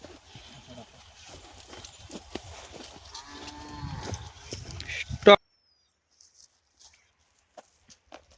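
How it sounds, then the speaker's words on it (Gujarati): Buffaloes on a farm in rural Gujarat, with lowing calls rising amid hoof sounds and background voices over about five seconds, then cutting to near silence with a few faint knocks. "જો આ બધા આપણા ભેંસ."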